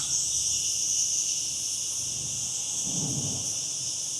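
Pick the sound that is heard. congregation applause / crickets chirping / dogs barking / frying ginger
crickets chirping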